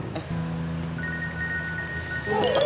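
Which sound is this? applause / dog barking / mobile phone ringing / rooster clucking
mobile phone ringing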